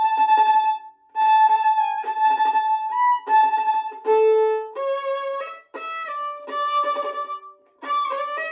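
Electric piano chords ring out one after another with clear sustained tones and short gaps between them, close and moderately loud, with no voices.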